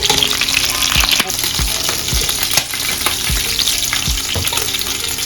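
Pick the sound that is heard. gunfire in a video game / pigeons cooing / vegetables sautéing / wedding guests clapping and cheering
vegetables sautéing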